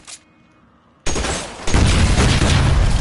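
Video game gunfire aimed at barrels: a brief click, a pause, then a sudden loud sustained burst of rapid shots and blasts that swells even louder and keeps going to the end.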